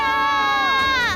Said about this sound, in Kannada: ಅಲ್ಲಿ ಚಪ್ಪಾಳೆಗಳ ಕರತಾಳ ಕೇಳಿಯಾ?